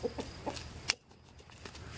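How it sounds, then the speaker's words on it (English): A rooster gives a short crow-like call amid clucking chickens, fairly close, with a sharp burst near the middle and quieter fowl sounds around it. "one of the roosters."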